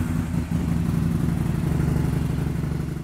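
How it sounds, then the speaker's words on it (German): A BRP Can-Am Spyder three-wheeled motorcycle engine, two-cylinder, starts up and settles into a steady, loud, close idling rumble after a brief dip. "Jetzt starten wir den Motor."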